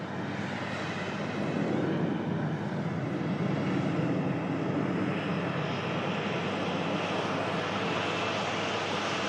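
An airliner climbing out after takeoff from an airport, a loud continuous jet engine roar that holds steady across the whole stretch, heard from a distance with no voices.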